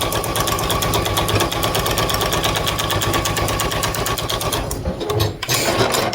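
Sewing machine stitching a half-square-triangle quilt seam, a steady loud rapid mechanical whir running nearly continuously, with a brief dip near the end.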